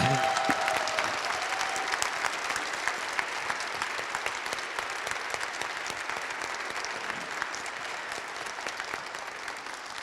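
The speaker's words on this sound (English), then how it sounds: "a big round of applause, please, for Elif Shafak." An audience at a literary talk applauds in a large hall. The clapping is dense and sustained and fades slightly over about ten seconds, with no speech over it.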